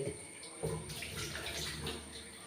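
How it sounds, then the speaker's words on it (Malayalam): Horse gram being rinsed and swirled in a bowl of water, with soft sloshing and trickling that stays faint and close throughout. "നല്ല ഒരു മൂന്നാല് പ്രാവശ്യം കഴുകിയിട്ട് എടുക്കുക"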